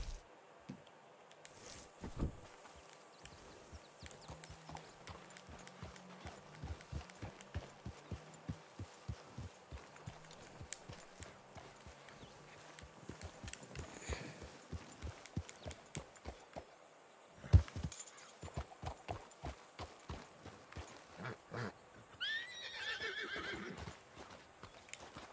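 A horse in Red Dead Redemption 2 gallops with quick rhythmic hoofbeats and lets out whinnies, all at a fairly quiet level, with a sharper thump near the end.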